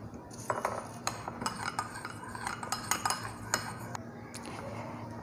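Castor oil stirred with three added capsules for a homemade eyelash serum, a run of light clinks and scrapes of a utensil against a small container, close and fairly quiet, with no one talking.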